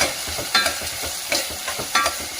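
Onion frying in a pan for sabsige soppu uppittu: a soft, even sizzle with repeated spatula scrapes and taps at an irregular rhythm.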